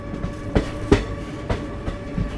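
An Indian Railways train running on the tracks near Simri Bakhtiyarpur station, with a steady rolling rumble and a regular clickety-clack of wheel beats over rail joints, heard from on board, without talk.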